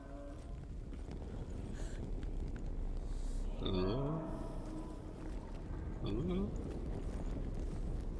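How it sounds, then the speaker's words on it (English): A cow-like minotaur in the video game Hellblade: Senua's Sacrifice gives two low, drawn-out moaning bellows, spaced a few seconds apart, under a constant rumbling ambient bed of game noise. "Sounds like a cow. Probably a minotaur."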